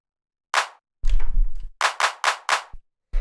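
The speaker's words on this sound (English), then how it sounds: "just your standard, nice, punchy 808 clap" Punchy 808 drum machine claps hit one after another, crisp and distorted, with a longer gritty burst between them and short gaps of silence, in a rave techno production.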